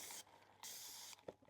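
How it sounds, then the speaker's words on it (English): Two bursts of spray hiss over resin craft moulds before pouring, each a steady close whoosh of about half a second, separated by a short pause and followed by a small clunk. "Let me spray."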